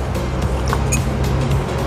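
A loud vehicle engine rumbling close by throughout, a steady low drone of a truck and motorcycle passing together by a river in Pampanga, with no pauses.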